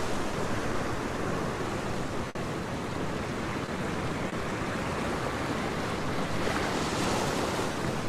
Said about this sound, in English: Really nice waterfall coming off these rocks over here.